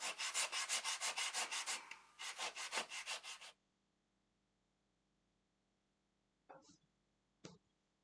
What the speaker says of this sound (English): The fit is checked and fine-tuned with a sanding block.